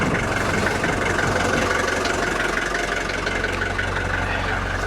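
A Porsche Cayman engine idles steadily and close by, a continuous low rumble with no other sound over it.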